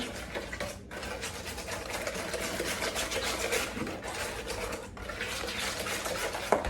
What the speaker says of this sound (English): I'm going to use this whisk. Just want to get the lumps out.